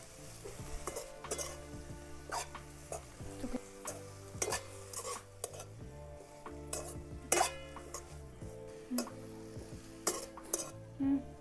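A wild leafy vegetable dish is stirred and mixed in a pan, a spoon scraping and clinking against the metal in irregular strokes over a faint sizzle, fairly quiet and close.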